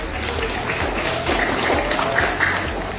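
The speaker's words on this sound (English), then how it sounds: "everybody please clap for your representatives" An audience claps for finalist representatives at a youth speech contest results announcement, a continuous wash of applause throughout, even and fairly loud with a murmur beneath.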